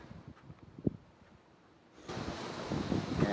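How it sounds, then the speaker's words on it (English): A fast-moving river rushes, faint at first and then swelling into a louder, steady wash of broad noise for the last stretch. "It's running very rapidly. It's really a fast-moving river."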